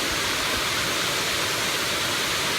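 Waterfall at Cataratas Allcamayo roaring in a steady, dense broadband rush of falling water, loud and continuous from start to end, with no voices present.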